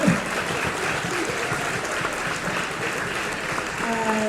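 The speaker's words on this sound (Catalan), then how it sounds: "podem fer un aplaudiment per aquests nens i per l'Escola Josepina Ibáñez" Applause from an audience for a children's rap performance by pupils of Escola Josepina Ibáñez at the Sambori 2023 awards in Pla de Montserrat, a steady, dense wash of clapping that fills the whole stretch.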